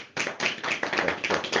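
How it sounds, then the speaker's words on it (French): A congregation at a Cameroonian Bible study applauds after a scripture reading, with brisk rhythmic clapping in short, even bursts, close and steady throughout. "Acclamons d'abord pour cette écriture"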